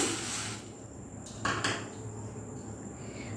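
Red lentils tipped from a small bowl into another vessel, a brief close clatter of dishes knocking together after a quiet stretch, with faint handling sounds afterward.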